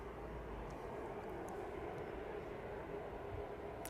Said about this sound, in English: Both those aircraft making their way down towards us now then.